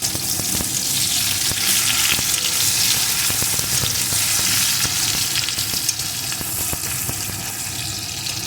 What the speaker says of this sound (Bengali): এখন এর ভিতরে দিয়ে দেব পেঁয়াজ কুচি পেঁয়াজ কুচিটা একটু ভেজে নেব